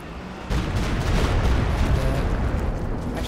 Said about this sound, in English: Here's another Stuka barrage.